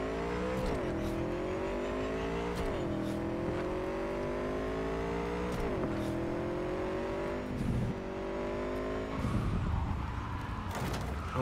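A motorcycle in Cyberpunk 2077 starts up and revs, with a mechanical engine drone that climbs in pitch in repeated surges, dropping between each rev before a final burst.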